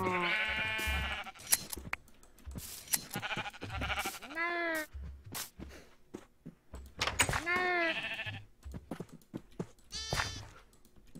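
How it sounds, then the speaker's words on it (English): Sheep in Minecraft bleating repeatedly, several wavering nasal calls spaced a few seconds apart, close and clear, with a door-like knock and light game noises between them. "let's go and shave the sheep"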